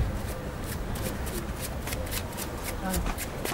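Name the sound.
playing cards being cut and shuffled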